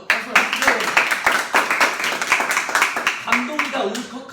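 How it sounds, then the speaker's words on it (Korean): Scattered hand clapping from a small group during a Korean idol group's anniversary livestream, uneven and fading in and out with speech and laughter over it. "박수!"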